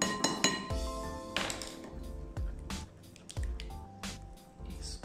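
A spoon clinks against a bowl while nutmeg powder is stirred into carrot cake batter, repeated scraping strokes with soft squishy mixing and bright metallic taps in a steady rhythm, close by.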